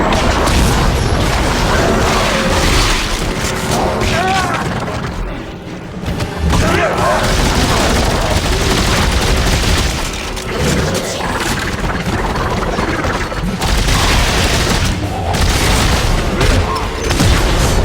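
Assault rifle fire and explosions from the video game Dead Space 3 form a loud, dense, nearly unbroken wall of shots and booms, with a voice talking over the din.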